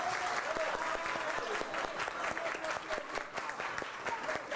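Classroom applause for the winning team, a quick burst of many hands clapping in a dense, even patter, fairly quiet and close, with voices mixed in.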